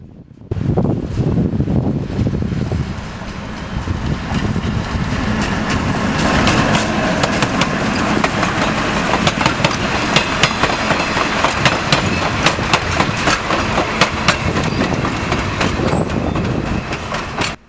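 A Mid-Continent Railway train, No. 7, rumbles past eastbound at track speed near North Freedom, loud and close, with continuous clickety-clack of wheels and wind noise for the whole stretch.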